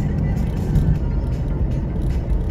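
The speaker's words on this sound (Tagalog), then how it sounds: "Marami-rami din mga sasakyan ngayon." Steady road traffic rumble from inside a moving car during a Friday road trip, a continuous low engine and tyre drone with passing vehicles, loud and unbroken throughout.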